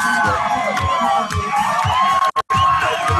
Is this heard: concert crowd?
yes